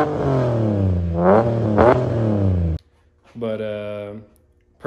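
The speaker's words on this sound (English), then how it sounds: "I'll insert a clip here of me actually revving on it." A BMW E36 with an S54 engine revs through a new muffler exhaust, two sharp rising rev bursts followed after a pause by a steady higher-pitched rev, close and loud.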